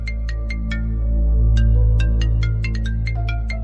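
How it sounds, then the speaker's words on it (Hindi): Phone ringtone playing a bright repeating electronic melody in quick separate notes over a low steady hum, loud and close, with no voices on top. "एक मिनट, फोन आ रहा है।"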